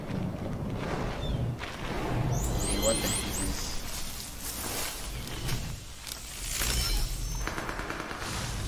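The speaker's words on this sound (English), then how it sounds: "Okay, I hear shooting." Gunfire in Metal Gear Solid Delta: Snake Eater, irregular bursts of shots and booms rolling in and out over an ambient wash, with a person talking over the game sound.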